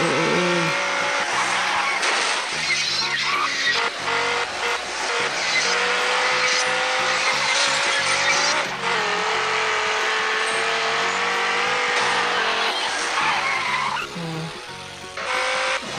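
A racing video game car speeding around a track, with a high engine whine that shifts pitch and repeated screeching tire squeals, while a voice talks intermittently over the game audio.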